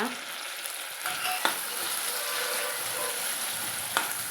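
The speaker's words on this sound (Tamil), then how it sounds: "இப்போ வந்து வெட்டி வச்சுக்கிற ரெண்டு தக்காளி பழத்தை வந்து சேர்த்துக்கலாங்க கூடவே நம்ம சேர்த்து வதக்கலாங்க" Small onions and two chopped tomatoes sautéing in a pan for sambar produce a steady, close sizzling hiss broken by a few light stirring clicks, with no speech.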